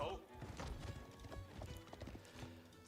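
Horses galloping in Age of Empires, feudal-age horsemen and horse archers: a busy, continuous patter of clip-clopping hooves with faint whinnies, low in level and mixed under battle noise and a voice.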